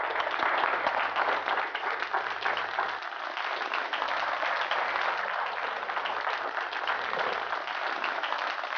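An audience at a Brahma Kumaris gathering breaks into sustained applause, a dense, even wash of many hands clapping that continues without pause throughout.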